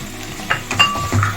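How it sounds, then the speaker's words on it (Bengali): Cauliflower and potato with fried spices being stir-fried in a pan give a soft sizzle under a few spatula scrapes and light clinks against the metal, close and brief. "ফ্রাই করা মশলার সঙ্গে ফুলকপি আলুটা কষিয়ে নেব"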